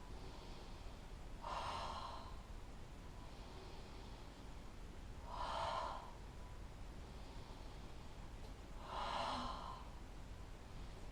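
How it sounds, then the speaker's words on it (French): Three strong, forceful breaths taken during a back-stretching session, evenly spaced a few seconds apart, close and clear over a quiet hiss with no talking. "Allez, 3 respirations fortes."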